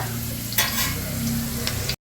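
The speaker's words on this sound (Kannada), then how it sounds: "ಒಗ್ಗರಣೆಗೆ ಹಾಕೊಂಡಿದ್ದೀನಿ ನೋಡ್ಬೋದು." Spices sizzling in hot oil for a tempering, a continuous close frying hiss with a few sharper crackles, heard alone for about two seconds before cutting off.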